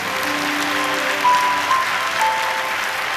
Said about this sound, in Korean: 박수로 축복합니다.